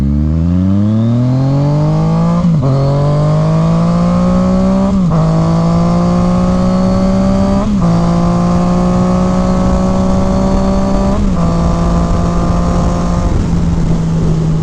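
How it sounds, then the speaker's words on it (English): A 2019 Yamaha MT-09 with an M4 carbon slip-on exhaust accelerating hard, loud and close, its engine note climbing steadily through five or six gear shifts, each marked by a brief dip before the pitch rises again. "This is what it sounds like getting on it."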